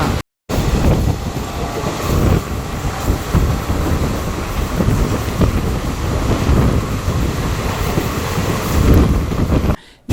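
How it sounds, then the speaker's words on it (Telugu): A DEMU train runs along the line, heard from on board as a loud, steady rumble with wind buffeting and faint rhythmic clatter of wheels, continuous throughout without talk. "ఒక నిమిషం హాల్ట్ తర్వాత మన ట్రైన్ గొల్లపల్లి నుండి బయలుదేరింది"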